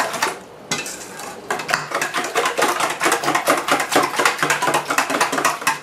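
Lemon curd and cooking cream are stirred into a custard mixture, a spoon scraping and clinking rhythmically against a bowl in quick repeated strokes, close and alone without talk.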